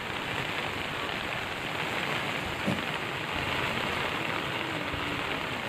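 Heavy rain pours down steadily at night in Betul, a dense continuous hiss of drops on surfaces with no pauses, loud and close, with one brief sharp knock midway.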